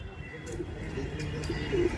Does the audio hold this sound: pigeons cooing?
yes